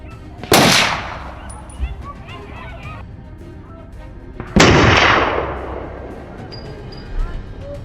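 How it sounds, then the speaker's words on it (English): Two sharp, loud gunshots ring out a few seconds apart during a wild boar hunt, each followed by a long rolling echo, with faint honking birds in the background. "The gunfire shattered the silence."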